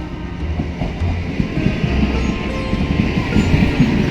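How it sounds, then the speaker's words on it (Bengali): A train pulls into a station with a heavy, close rumble and rhythmic clickety-clack of wheels over rail joints, growing slightly louder as it arrives. "আর এখন ট্রেন চলে এসেছে, চলো দেখাচ্ছি ট্রেনটাকে"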